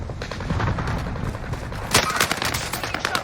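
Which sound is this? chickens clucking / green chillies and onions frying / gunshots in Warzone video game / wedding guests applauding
gunshots in Warzone video game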